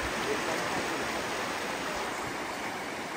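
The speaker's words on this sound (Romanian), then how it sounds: "Uite la un râu aici, interesant. O apă foarte limpede." A clear mountain river flows steadily nearby, a continuous broadband rush of running water with no breaks, loud and close throughout.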